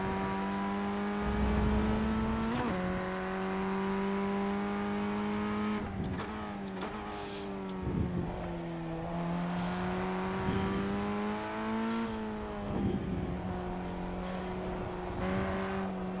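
A Formula 1600 open-wheel race car engine in a racing video game drones steadily at high revs, its pitch stepping down and climbing with gear shifts and revving through the laps, with no talk over it.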